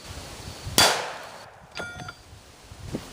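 A rifle firing a 62 grain green tip round strikes a 3/4 inch steel plate outdoors, giving one loud, sharp metallic clang that rings out. Fainter metallic taps and a small knock follow in the quiet afterward.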